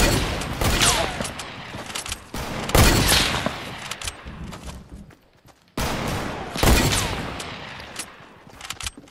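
Gunfire rattles in a Fortnite video game fight, with several bursts of rapid shots and sharp single cracks, loud and close, separated by brief quieter gaps.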